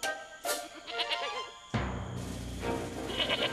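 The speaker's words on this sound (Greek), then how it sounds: "Η κατσίκα!" A cartoon goat bleats in a dubbed animated scene, with wavering cries that come in and out over a busy soundtrack and other effects.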